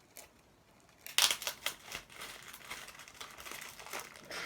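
A catalogue package is torn open by hand without scissors: a loud crinkling rip of paper, followed by a few shorter tearing and crumpling bursts and a softer rustle, close up and with no talk.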